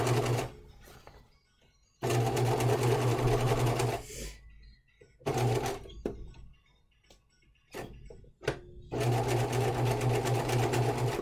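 Domestic sewing machine basting a pocket on a hanten jacket mockup, running in several loud bursts of steady stitching separated by short pauses with handling clicks between.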